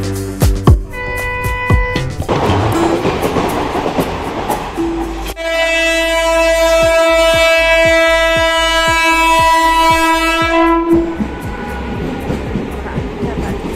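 A train bound for Bangalore KSR railway station rumbles past with loud clickety-clack over the rails and a long, sustained horn blast in the middle, heard up close.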